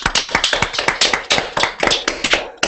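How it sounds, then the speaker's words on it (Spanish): A small group of people clapping close to the microphone on an online call, with uneven, sharp hand claps in quick succession rather than a full crowd. "esto merece un aplauso muy grande a Nayara"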